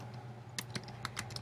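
Typing a web address on a computer keyboard, a sparse run of about eight crisp clicks over a quiet room hum, close and soft, with no voices.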